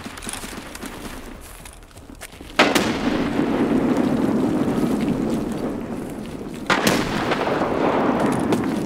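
Heavy explosions from thrown grenades in the shooter game Escape from Tarkov, two loud blasts about four seconds apart, each followed by a long rumbling decay over a steady wind-like background.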